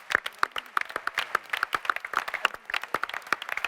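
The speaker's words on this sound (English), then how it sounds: "I think all their parents deserve a round of applause." Audience members at a television panel event at PaleyFest applaud in a brisk, close burst of many overlapping hand claps, lively and uneven throughout.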